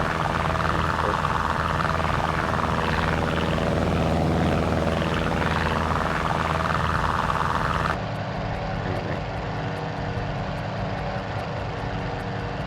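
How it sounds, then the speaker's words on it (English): A de Havilland Chipmunk's piston engine drones steadily in Microsoft Flight Simulator 2020 during circuit flying, a loud, even hum that shifts abruptly to a slightly different tone partway through, with no voices. "it's just a beautiful aircraft. Sounds really nice as well."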